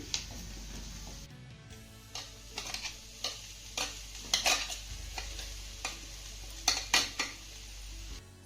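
Repeated sharp scrapes and clacks of a utensil stirring ground soybean sautéing in spices in a pan, irregular but steady, over a low hum and faint sizzle.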